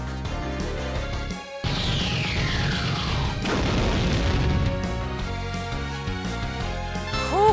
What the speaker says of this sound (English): was not expecting that bomb to turn into a bunch of smaller bombs after going off